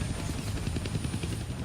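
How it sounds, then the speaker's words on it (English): Helicopter rotor thrum from the Deadpool video game, a dense rapid low chopping that stays steady and fairly loud throughout. "where'd the helicopter go?"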